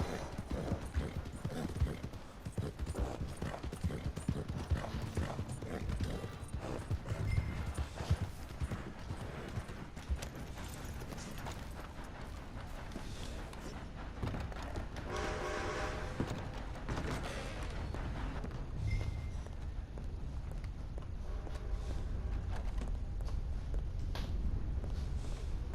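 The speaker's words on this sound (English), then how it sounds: "Vamos al galope tranquilo" Horse hooves clip-clop at a steady easy gallop in the video game Red Dead Redemption 2, rhythmic and fairly close, running continuously under game music and ambience.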